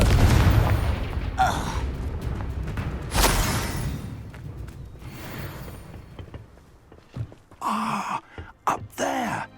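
A Confringo fire spell blasts off in Hogwarts Legacy, a loud booming burst with a rumbling tail, followed by sharper magical cracks and whooshes later on.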